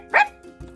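A single dog bark sounds as one short, fairly loud burst, followed by brief low rumbling, with no speech in the clip.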